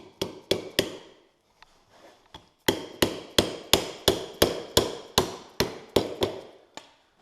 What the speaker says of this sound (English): Just give it a couple little taps, a little soft hammer.